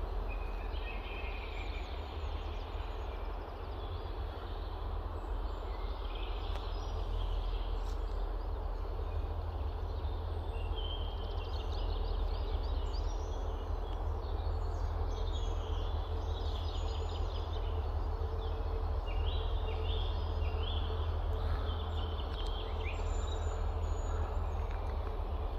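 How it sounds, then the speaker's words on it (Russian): Birds sing outdoors, with faint scattered chirps and trills repeating over a low, steady background rumble for the whole stretch, distant and quiet. "И почувствуйте, услышьте голоса птиц."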